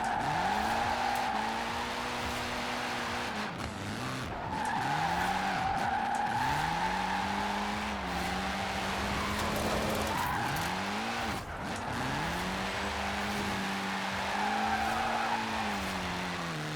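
A classic Citroen DS on race tires in Forza Horizon 4 slides sideways, its engine revving and falling in repeated sweeps under continuous loud tire squeal, close and steady throughout.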